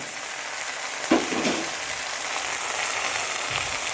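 Food sautéing in an iron pan while green peas gravy is being cooked, a steady soft sizzle throughout with a brief scrape of stirring partway through, heard close and without talk.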